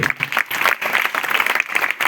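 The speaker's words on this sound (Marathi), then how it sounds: "आजींच्यासाठी एकदा जोरदार टाळ्या वाजवायचे" An audience claps enthusiastically in a hall, a dense burst of hand applause lasting a couple of seconds, loud and close, with a faint voice mixed in.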